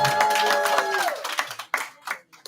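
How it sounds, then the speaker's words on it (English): Audience applause for a host at an exchange alumni gathering, starting as a dense burst of clapping with a tonal sound briefly audible, then thinning to a few scattered claps. "Ladies and gentlemen, round of applause to the one and only Lena Mwangi."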